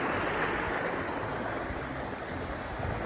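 Water from a stream at a trail water source on the Appalachian Trail rushes as a steady, broad hiss of flow, continuous and fairly soft, with no voices.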